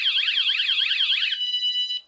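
A vehicle security alarm fitted to an expedition camper build sounds off with loud, rapidly warbling electronic tones that sweep up and down, then shift to a steadier pulsing beep before cutting off abruptly.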